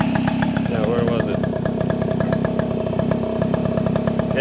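A two-stroke moped engine running on premix chatters at a steady, loud, close idle with rapid even firing pulses, and someone talks over it.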